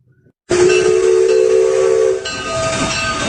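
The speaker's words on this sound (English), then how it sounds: "It is the sounds of a train." A train's steam whistle blasts loudly and steadily after a brief quiet, over a rushing hiss of steam that continues as the whistle drops away.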